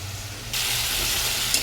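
Masala is stirred and fried in a pan, with a low hiss that jumps into a loud, steady sizzle partway through and continues close and constant, with a faint scrape near the end.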